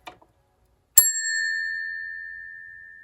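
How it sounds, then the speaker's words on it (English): An elevator innovation bell wired to a capacity plate, like those on 1990s Montgomery elevators, rings once with a loud bright ding that hangs on in a long clear ring, after a faint click. "it's wired to one of those innovation bells that you would hear on like the Monties"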